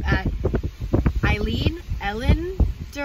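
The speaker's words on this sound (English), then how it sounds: "It is crazy windy." Strong wind on a Scottish road trip buffets the microphone with a heavy, low rumble, while voices speak over it throughout.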